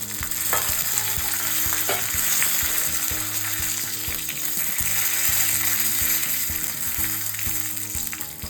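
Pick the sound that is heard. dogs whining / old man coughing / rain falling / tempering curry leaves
tempering curry leaves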